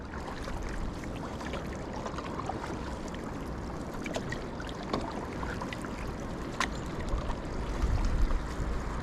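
Rapids on the Vieux Rhône rush with a steady, broad roar of water, heard from a boat at moderate distance. The wash stays continuous and fairly quiet throughout, with no one talking.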